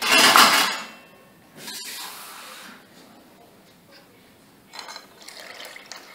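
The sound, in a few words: water being poured into a cooking mixture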